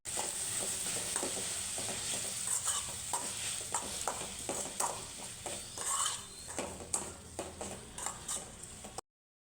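Chilies frying in a pan with turmeric, garam masala, sugar and salt, giving a steady close sizzle broken by repeated scraping stir strokes until it cuts off.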